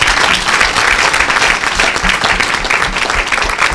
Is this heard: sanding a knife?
no